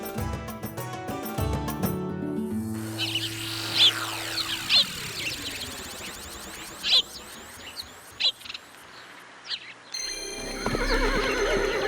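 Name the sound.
horse neighing and hooves clip-clopping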